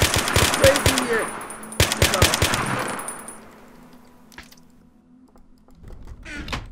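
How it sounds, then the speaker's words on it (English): Rapid machine gun bursts in a video game deathmatch, loud staccato volleys over the first three seconds, then a fading tail and a faint low hum, with a brief burst of game noise near the end. "I'm shooting him from behind."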